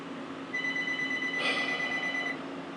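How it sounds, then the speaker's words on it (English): A phone rings once, a short electronic tone lasting about two seconds over faint room background. "My phone is ringing."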